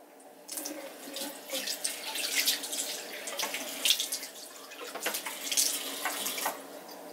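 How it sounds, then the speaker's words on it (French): Bathroom tap running steadily into a sink while water splashes as a face is wetted, close and moderately loud with irregular splashing bursts. "Alors je vais me mouiller le visage avant."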